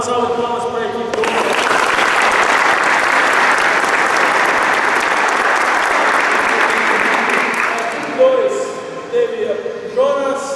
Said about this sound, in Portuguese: Então uma salva de palmas para a equipe 1.